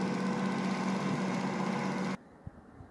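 Energy-efficient dual-stator BLDC motor running under load, a steady loud hum with a strong low drone that stops abruptly about two-thirds through, leaving near silence with a couple of faint clicks.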